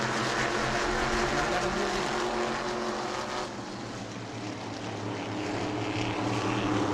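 Modified race cars roar around the New Smyrna oval at a 602 Mod event at dusk, several engines droning loud and continuous as the field passes, with a brief dip before the noise swells again.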